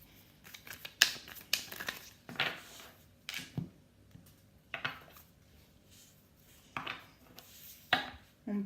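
Tarot cards shuffled and handled by hand, a series of crisp papery riffles and slaps in irregular bursts with quiet pauses between, close and moderately loud.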